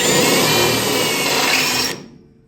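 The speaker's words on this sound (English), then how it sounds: "Now the thing is, you drill through just the top 2." A power drill whines loudly and steadily as it bores through sheet metal on a car firewall, then cuts off abruptly and spins down to silence.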